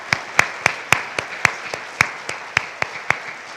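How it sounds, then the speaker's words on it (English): A single person claps steadily, about a dozen sharp, evenly spaced claps at close range, for sixth grade speakers at a school recognition event. "Let's give them another round of applause"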